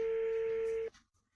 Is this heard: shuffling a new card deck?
no